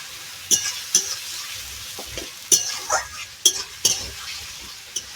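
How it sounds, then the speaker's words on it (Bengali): A spoon stirs and scrapes spice masala with tomatoes in a pan on a clay stove, giving several sharp, irregular scraping strokes over a steady low sizzle. "মশলাটা একটু নাড়াচাড়া করার পর এখানটায় দিয়ে দেব টমেটো"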